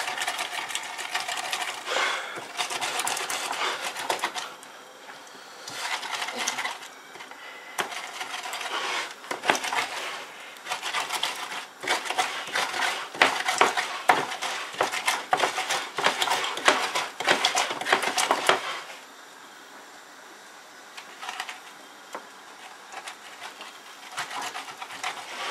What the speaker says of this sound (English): you can get any mortar and pestle and do this. You have to make sure the garlic is totally grinded.